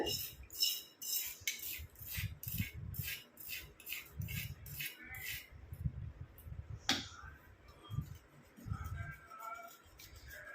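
A hair dye mixture being stirred in a bowl with a spoon, making close, rhythmic scraping and clinking strokes, with a brief sharp clink partway through and faint talking between the strokes.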